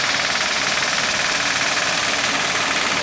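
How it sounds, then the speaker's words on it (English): A big tractor at an olive harvest in Muro Leccese runs nearby with a loud, steady, rough engine drone and knocking rumble, unbroken and with no voices over it. "there's the big tractor that pulled all the machines they came with"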